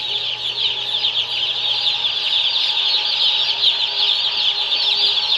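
Many baby chickens cheep and peep continuously in a steady, high-pitched chorus with a low hum beneath, no voices.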